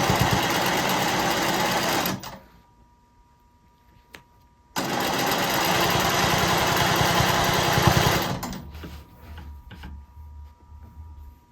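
A sewing machine quilts a border along a ruler in two fast, steady stitching runs separated by a brief pause, followed by quieter, intermittent stitching.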